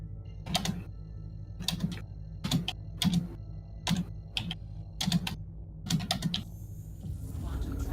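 Bursts of fast typing on a mechanical computer keyboard, close and crisp, come in short clustered runs separated by brief pauses, with faint background hum between them.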